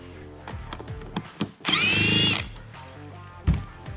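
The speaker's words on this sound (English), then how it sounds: "Just locate all the screws and take them out." A power drill backing screws out of a Morimoto headlight housing from a 2020-2022 Ford F250/F350: short clicks and handling knocks, then one loud high-pitched whirring burst of under a second, followed by a thump.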